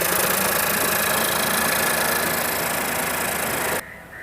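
A car engine with a P0301 cylinder-one misfire idles steadily with the AC on, a close, loud rough drone with uneven knocking and vibration that cuts off abruptly near the end.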